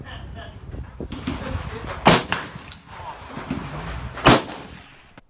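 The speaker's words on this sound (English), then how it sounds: "With high brass rounds, slugs, and buckshots, this thing's still got a fair amount of recoil." A Mossberg 930 SPX semi-auto shotgun fires at a range with high brass rounds, slugs and buckshot, two loud sharp blasts about two seconds apart over background rumble and clatter.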